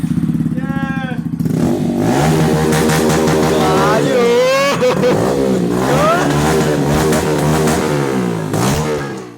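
A modified N160 motorcycle engine is revved hard up close, with loud, rising and falling pulls of the throttle one after another, and people talk briefly at the start.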